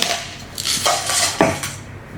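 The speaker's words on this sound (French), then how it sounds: "On mélange au fouet à chaque fois" Metal whisk stirring béchamel sauce in a pan over low heat: a few scraping, clinking strokes against the metal, close and fairly loud, with no talk.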